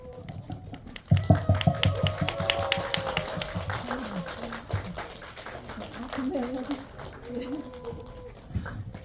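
Audience at a Korean film event claps as the director and actress walk in, a burst of applause starting abruptly and continuing unevenly while a host speaks over it.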